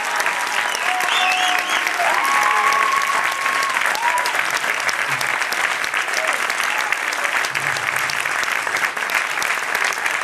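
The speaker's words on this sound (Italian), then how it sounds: "E Matt Schumann, prenditi l'applauso, dai!" Steady, dense applause from a theatre audience at a live stage show, sustained and full for the whole stretch, with faint voices and tonal bits from the stage under the clapping.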